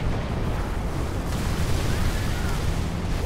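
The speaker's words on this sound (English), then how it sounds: "Look out, grenade!" A grenade goes off in Halo 3 ODST, a loud, close, rumbling blast that rolls on as a dense low roar for a few seconds.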